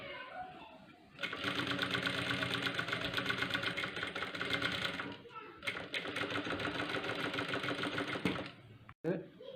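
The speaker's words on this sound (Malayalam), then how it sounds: "എന്നിട്ട് ഈ സൈഡിൽ കൂടി ഒന്ന് തയ്ച്ചെടുക്കുക." Sewing machine stitching a curved seam: a steady, fast mechanical whirr with rapid needle ticking runs for several seconds, stops briefly, then resumes for a second long run before cutting off, close and clear.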